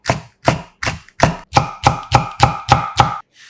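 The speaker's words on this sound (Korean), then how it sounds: "양념에 들어갈 풋고추 2개는 반으로 갈라 송송 썰어" Two green chili peppers, split in half, are sliced thinly with a knife on a cutting board in a quick, steady run of about ten crisp chops, close up and with no talking.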